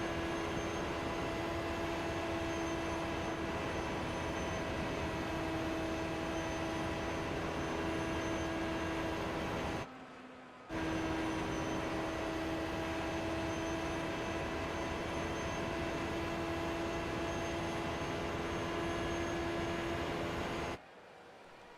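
An Indy car engine held near 10,000 RPM in an Indianapolis 500 racing video game gives a steady, high whining drone, broken by a short dropout near the middle and another at the end.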